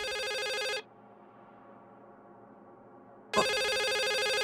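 A telephone rings in the game The Suicide of Rachel Foster: two loud electronic ring bursts separated by a quiet pause of about two and a half seconds, close and alone.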